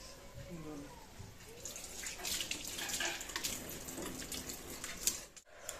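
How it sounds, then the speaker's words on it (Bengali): Water splashes and pours over hands in a home kitchen while cooking fish curry, a faint running, trickling wash with spattering drips and voices talking over it. "আমার হাতে একটু জল দিতো"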